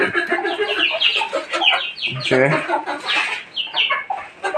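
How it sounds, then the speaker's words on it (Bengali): A hen clucks steadily up close, with a dense chorus of other chicken calls around it and no pauses. "দেখেছেন কুইচা মুরগি সন্ধ্যায় যায় বইছে।"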